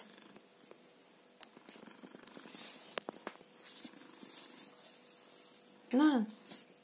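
A begging cat sounds at close range with a low purr-like murmur amid faint household noise, then a short, louder rising-and-falling vocal near the end.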